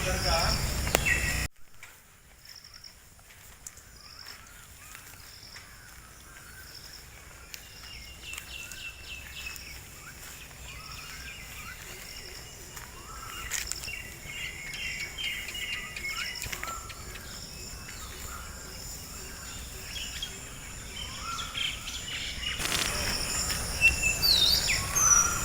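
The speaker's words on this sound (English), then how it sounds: "Can you hear all the birds?" Birds calling and insects chirping on a rain-drenched farm during first sowing, a dense, fairly quiet layer of repeated chirps and high trills, with a brief louder noisy patch at the start and end.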